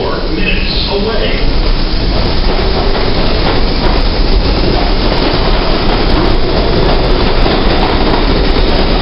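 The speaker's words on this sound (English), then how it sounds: "Express 3, train 2, Newlands Avenue, approaching the station." A New York subway express 3 train rumbles loudly into the 96th Street–Broadway station, wheels clattering on the rails in a steady roar, with a brief announcement voice near the start.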